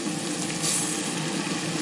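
Two and a half cups of rice poured into a hot pan for Peruvian-style arroz a la jardinera, hissing and sizzling loudly and steadily throughout, with no voices.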